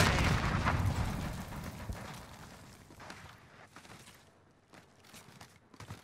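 A frag grenade blast and rapid gunfire from a video game open loud and dense. The bursts and cracks trail off over several seconds into scattered, fainter shots.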